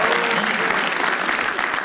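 Audience applause for a comedian at a roast-style comedy show, a dense, steady burst of clapping from a live crowd that holds evenly throughout.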